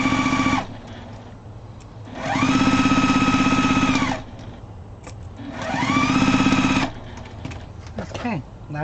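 A sewing machine stitches placemats for an outdoor table in two long steady runs with a pause between them, whirring loudly and close, while someone talks during the gaps.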